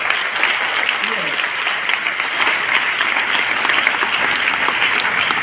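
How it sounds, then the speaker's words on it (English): A large audience claps steadily and loudly for several seconds at a public ceremony in Warri. The sound is a dense, continuous applause with no single claps standing out. "Can we applaud those creative artists?"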